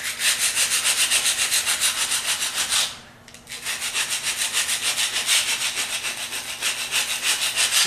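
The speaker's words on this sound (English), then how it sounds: "If you've got a dull putty knife, take it on the concrete sidewalk somewhere it's not going to show up anywhere" A dull steel putty knife scraped back and forth on an old concrete sidewalk to sharpen its edge, giving steady, loud, gritty rasping strokes in a quick rhythm, with a brief pause near the middle before the rubbing resumes.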